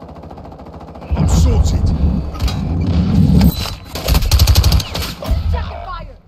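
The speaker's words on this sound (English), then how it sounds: "Taking effective fire!" Rapid machine gun fire in a Call of Duty Plunder match, loud bursts of gunfire running through most of the moment with a voice talking over the shooting.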